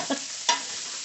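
Pork ribs searing with onion in a pan for orange BBQ ribs: a constant close sizzle with two brief scraping stirs near the start.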